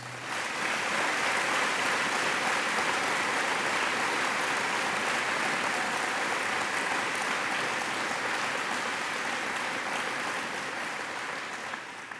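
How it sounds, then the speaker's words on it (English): Sustained audience applause at a memorial service, a broad even wash of many hands clapping that holds steady for several seconds and eases slightly at the end, with no voices over it. "If we could all just give a round of applause."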